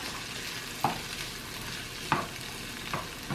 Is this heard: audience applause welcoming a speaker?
no